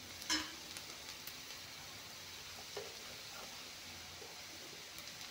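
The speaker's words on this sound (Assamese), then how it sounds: "এইখিনি ভালকৈ ভাজি ল'ম।" Kohlrabi and fish frying in a pan give a steady, even sizzle throughout, with a sharp stirring clink near the start and a few lighter scrapes later, heard fairly softly with no one talking.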